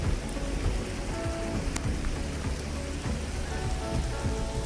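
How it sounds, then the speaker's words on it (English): Hailstones falling during a mountain hailstorm make a dense, continuous patter of hard impacts across the ground and surfaces nearby, steady and fairly loud with no talk. "it created a huge hailstorm, which I managed to capture a little bit of"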